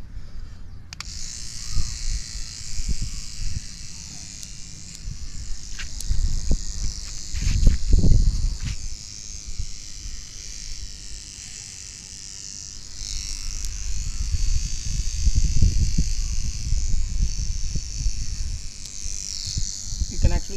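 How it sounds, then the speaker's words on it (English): An electric toothbrush buzzes steadily against brinjal (eggplant) flowers to shake loose pollen during hand pollination in a garden, a continuous high-pitched electric hum running throughout with a few low thumps and handling bumps close to the recorder. "you can actually see the pollen dust being sprayed out when you are doing this shaking using the electronic toothbrush"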